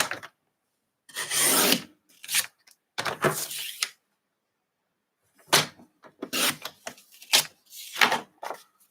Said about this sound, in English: I'm going to cut a piece of cardstock 10 by 14.